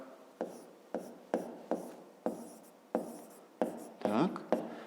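Pen strokes on paper during a fifth-grade maths lesson, about nine short scratching bursts in a regular rhythm, close and fairly quiet, with a voice speaking briefly near the end.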